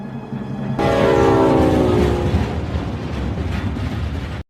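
A loud train in a movie scene roars in with a sustained horn blast over heavy rumbling, the horn's tone shifting as the noise continues steadily.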